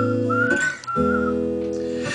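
A person whistles a melody at a sung folk performance, clear sustained notes close and loud, with a short pause partway before the tune carries on.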